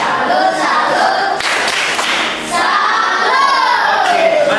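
A school group claps and shouts together in a rhythmic chant, clapping hands in repeated patterns with loud crowd voices and children's cheering filling the space throughout.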